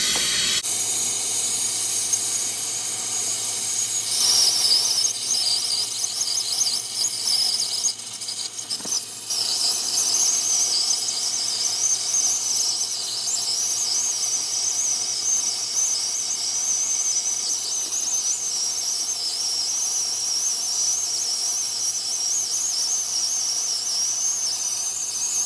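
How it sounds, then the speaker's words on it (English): A torch flame hisses steadily as it is held toward the compressor of a Sub-Zero beverage center wine cooler, a loud, constant close-up roar with a thin high whistle that lasts throughout. "hold the torch towards the compressor"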